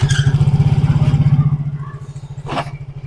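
A manual motorcycle engine revs close by in a fast, pulsing idle-to-rev rhythm that eases off midway, with a brief clattering burst near the end and no voices.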